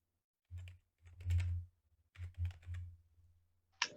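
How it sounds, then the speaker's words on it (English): Fingers type on a computer keyboard in quick bursts of clicks, with pauses between runs and a sharper tap near the end; close and clear, with no talk. "I was typing things wrong"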